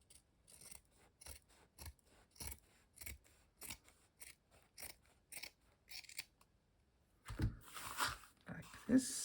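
Scissors snipping through fabric near felt for a hand-stitched collage, a quiet series of close, crisp cuts at an uneven pace, followed by rustling and handling noise.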